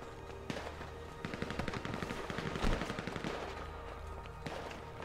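GTA Online gunfire rattles in fast automatic bursts, with dense repeated shots running almost continuously at moderate loudness and a louder burst near the middle.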